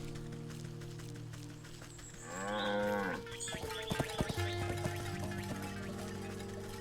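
Cow mooing in the Wytchwood video game, one long drawn-out low moo in the middle, followed by scattered clicks and tapping sounds over a steady musical drone; no voices.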